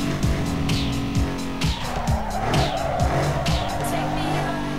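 A black race car in Need for Speed Underground 2 drives hard, its engine revving up and down through gear changes with tire squeal, loud and steady under game sound, with someone talking over it.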